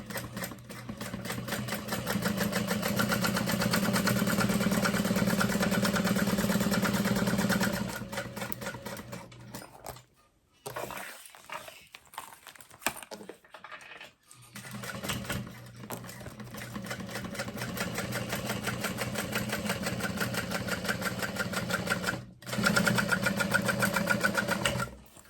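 A sewing machine stitches a fabric binder cover in rapid, even mechanical bursts, running steadily for several seconds, pausing with a few quieter clicks and adjustments, then resuming at full speed.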